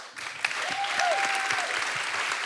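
An audience at a London Climate Action Week event claps steadily for guest speakers for a couple of seconds, a dense patter of many hands filling the room with no voices on top.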